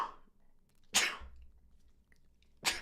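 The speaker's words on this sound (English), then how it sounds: "Sneeze." A single sharp sneeze up close, followed after a quiet pause by a second similar burst near the end, in an otherwise quiet room.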